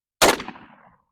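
A single close, loud shotgun blast firing 7.5 birdshot at an 11-yard target, a sharp broadband crack followed by a short decaying echo and then silence.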